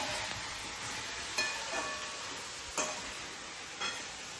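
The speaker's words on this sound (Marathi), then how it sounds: "कांदा फ्राय होतोय कांद्याला हळूहळू ब्राऊन कलर येतोय" Onion frying in a pan for a spicy home-cooked dry-fish dish, giving a steady faint sizzle with a few soft stirring scrapes spaced through it, no talking.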